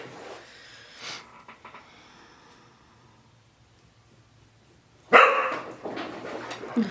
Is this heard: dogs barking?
yes